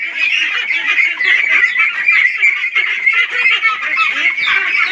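A flock of Pekin ducks on a farm, just after duck plague vaccination, quack and honk continuously in a loud, dense chorus close by, with no talk.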